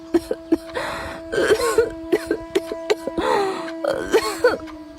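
A woman suffering from tuberculosis coughs repeatedly in a cartoon, harsh hacking bursts and throat-clearing sounds coming in irregular clusters, close and loud, with a faint steady tone running underneath.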